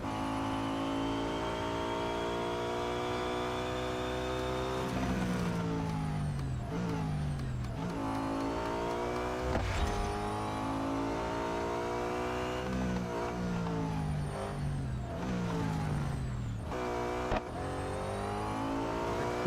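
Nissan R390 GT1 race car engines in the mobile racing game Real Racing 3, a loud continuous high-revving whine that rises and falls with repeated gear shifts, with no talk over it.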